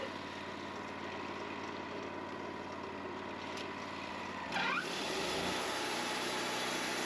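A Wood-Mizer portable sawmill takes a cap cut off a log for a D-log cabin, a steady distant engine drone with a shifting whine partway through as the blade bites, faint and continuous throughout.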